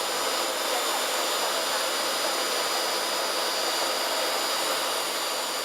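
A Jet Provost JP5 jet engine runs steadily with a loud, continuous broadband roar and high whine, unbroken and without talk.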